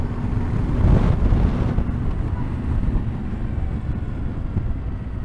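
Strong gusting wind roars and buffets continuously while riding a Tenere 700 motorbike through exposed Welsh countryside, a loud, steady low rumble that swells briefly near the start.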